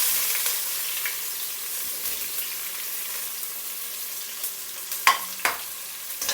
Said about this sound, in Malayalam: സവോളയും ചേർത്തൊന്ന് വഴറ്റി കുറച്ച് ഉപ്പും ചേർത്ത് നന്നായിട്ടൊന്ന് വഴറ്റിയെടുക്കാം